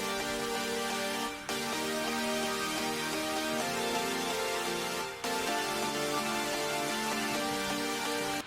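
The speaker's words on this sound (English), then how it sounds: "I got an EDM drop piano from Nexus." Progressive house chords from an EDM drop piano preset in Nexus, dense sustained layered chords sounding continuously with two brief dips where the chord changes, moderately loud and unaccompanied by speech.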